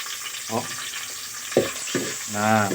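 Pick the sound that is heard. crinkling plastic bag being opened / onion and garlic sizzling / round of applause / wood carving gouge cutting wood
onion and garlic sizzling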